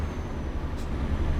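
Mercedes Actros MP3 truck with a V8 engine in Euro Truck Simulator 2, a low, steady, fairly quiet drone under way on the road, with a brief hiss partway through.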